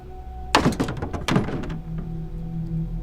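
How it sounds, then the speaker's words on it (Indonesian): Several knocks on a thin wooden wall, two quick clusters of sharp raps close by, the second burst slightly stronger, with a low hum beneath and no voices. "ketukan kedua pun muncul. Tapi kali ini semakin kencang"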